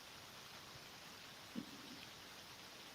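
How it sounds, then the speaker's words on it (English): Rain coming down gives a faint, steady hiss throughout, broken only by one soft bump near the middle. "hear the rain coming down again?"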